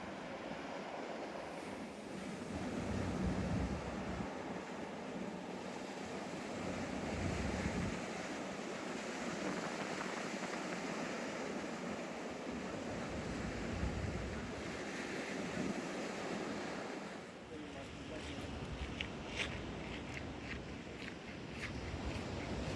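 Steady surf and blustery wind on a beach, the waves washing in a continuous loud wash with low rumbling gusts buffeting the microphone throughout.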